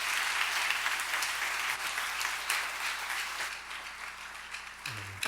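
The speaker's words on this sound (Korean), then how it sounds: "하나님 앞에 영광의 박수 올려드리겠습니다." A church congregation at a Sunday service applauds together, producing dense, sustained clapping that fades slightly toward the end.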